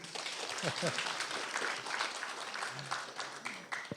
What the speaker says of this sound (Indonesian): Tepuk tangan buat Pak Eri.